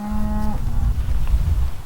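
A cow on an open heathland farm in Purbeck gives one loud, near moo that lasts about half a second, followed by low rumbling ambient noise.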